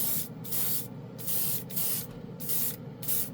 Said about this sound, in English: I didn't prep the surface, I just sprayed it.